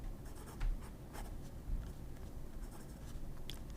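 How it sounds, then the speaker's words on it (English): A fountain pen with a 14 karat gold La Fenice nib writes on paper, giving soft, close scratchy strokes in an uneven rhythm with a few light taps, heard alone without voices. "I stayed quiet because I wanted to let you appreciate how smooth this nib is."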